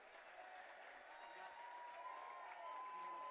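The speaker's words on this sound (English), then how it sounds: "Gets a nice hand from the crowd as he makes his way onto the pitch." Applause from a soccer crowd in a stadium as a substituted Detroit City FC player walks onto the pitch, a steady, moderately distant wash of clapping that holds level throughout.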